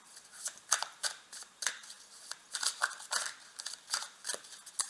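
A zodiac tarot deck is shuffled and cut by hand, giving close, crisp bursts of riffling and sliding card noise in an irregular rhythm.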